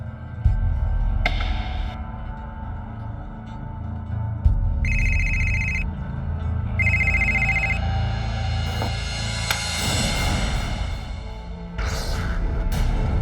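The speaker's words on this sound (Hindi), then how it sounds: "फोन लगा लास्ट डायल नंबर पे।" Telephone ringing on a redial of the last dialed number in a tense crime drama, repeated ring bursts over a loud, busy background score with some noise beneath.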